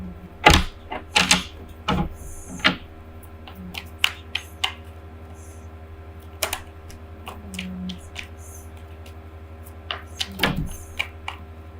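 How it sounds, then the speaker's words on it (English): Tarot cards spilling from a deck and being gathered back together, heard as a series of sharp, close card flicks and taps scattered irregularly over a steady low background hum, with no talking. "Too many cards fell out here, so I'm going to put them back."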